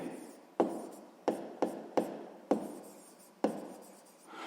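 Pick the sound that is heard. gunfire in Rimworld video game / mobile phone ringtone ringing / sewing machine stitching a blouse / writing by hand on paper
writing by hand on paper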